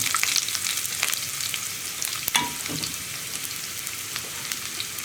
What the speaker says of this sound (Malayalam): ഈ ഉള്ളി ഒന്ന് കളർ ചേഞ്ച് ആയി വരുന്നത് വരെ നമ്മളൊന്ന് ഇളക്കി കൊടുക്കുക